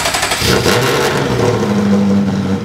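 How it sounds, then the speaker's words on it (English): A Ferrari-engined Alfa Romeo 105 runs steadily at close range, a low droning hum with a rising tone partway through, no voices. "I finally got the engine started in the Alfarrari"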